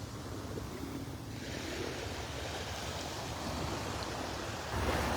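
Small waves lap gently along a sandy beach shore at Delnor-Wiggins, rippling over a sandbar in a steady, soft wash with some wind noise on the microphone, slightly louder surge near the end, no talking.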